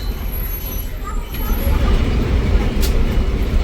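A KSRTC bus pulls up at the last platform of Tasgaon bus station, its low diesel rumble steady and close, mixed with station bustle and faint voices around it.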